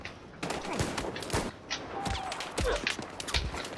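Rapid bursts of gunfire in Battlefield 4 gameplay, with sharp, loud shots in quick clusters and short gaps between them, close and punchy throughout.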